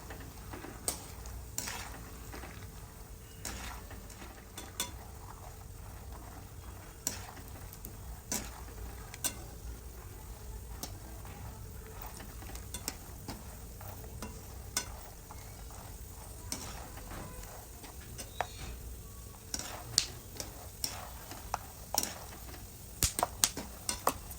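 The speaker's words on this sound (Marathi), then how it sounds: "शेंगदाणे आपल्याला चांगले परतून घ्यायचे आहेत किंवा फ्राय करून घ्यायचे आहेत" Peanuts frying in a little oil in a pan for murmura chiwda, stirred steadily, with a soft constant sizzle under frequent sharp scrapes and clicks of the spoon against the pan.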